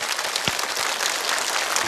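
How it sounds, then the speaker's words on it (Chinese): Studio audience at a Chinese television show clapping together, a brief, steady burst of dense applause heard close and continuous. "我们一起给你们鼓掌"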